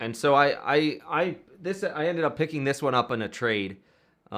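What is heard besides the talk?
No everyday noises stand out.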